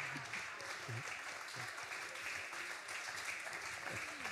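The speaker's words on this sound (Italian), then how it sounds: "la nostra Giuditta merita un applauso" An audience applauds Giuditta at a talk at the èStoria 2021 history festival, a steady wash of clapping held at moderate distance, with faint voices underneath.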